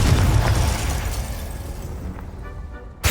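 A Confringo fire spell detonating in Hogwarts Legacy: a loud booming blast that rumbles and decays over a few seconds, ending with a sharp new hit.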